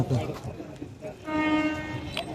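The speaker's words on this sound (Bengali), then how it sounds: "তো গাইস এখন মাঝদিয়া স্টেশনে রয়েছে, আর ট্রেন আসছে" A local train from Gede to Ranaghat rumbles into Majhdia station with a sustained horn blast over the noise, heard close on the platform, with some voices around.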